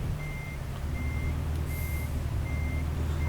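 A truck in American Truck Simulator sounds its reversing alarm, four evenly spaced beeps over a loud low engine rumble, with no talking.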